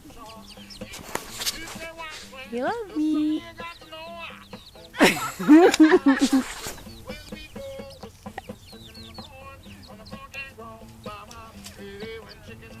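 Chickens clucking and squawking close by, with a few sharper bursts of loud bird calls midway, mixed under a person talking to them in a playful voice.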